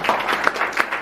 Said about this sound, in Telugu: గట్టిగా చప్పట్లు కొడదామండి